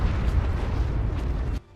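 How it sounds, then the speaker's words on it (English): Explosions in the video game Ark, a dense rumbling burst of booms at moderate distance that rolls continuously and then cuts off abruptly. "Hearing explosions, I went to go investigate"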